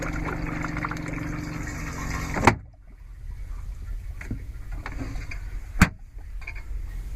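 Campervan toilet flushing antifreeze while the plumbing is winterized: a steady pump whir and rushing liquid that stops abruptly with a clunk, followed by quiet dripping and a second sharp click.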